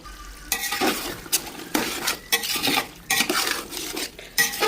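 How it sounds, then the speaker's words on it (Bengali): Spiced meat braising in a pot is stirred vigorously, with repeated loud scraping strokes of a spoon against metal over a soft sizzle, in an irregular rhythm. "তো অনেকক্ষণ হলো মাংস কষাচ্ছি,"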